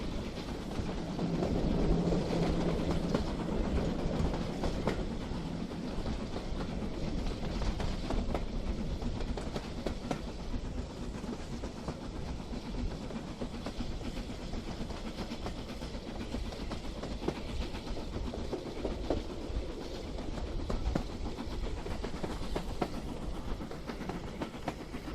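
A model King Arthur or Lord Nelson class locomotive in SR passenger green, fitted with an Airthex 1001 motor and 40 to 1 gears, runs along the track with a steady rolling rumble and faint clicks, continuous throughout.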